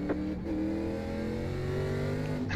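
Race car engine in iRacing, a K&N National Series stock car at Southern National, revving steadily at high pitch throughout with a slight dip and shift near the end, loud and close, no voices.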